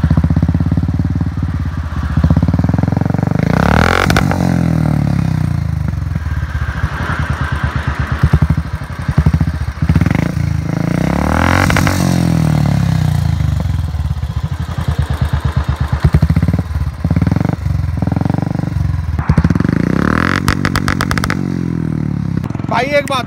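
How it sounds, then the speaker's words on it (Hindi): A Royal Enfield motorcycle with an aftermarket silencer idles and revs with a deep, throaty exhaust note, rising in a few loud bursts, with occasional clatter and voices in the background. "वो है साइलेंसर। ये है 3500 का, और इसकी आवाज़ सुन लोगे ना, गजब, इसकी औसम आवाज़ है।"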